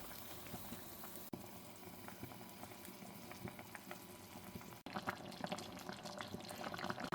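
Water boils in a pot for miswa noodle soup, a continuous bubbling hiss with scattered pops and crackles, steady and close, with a couple of brief dropouts and slightly livelier bubbling toward the end.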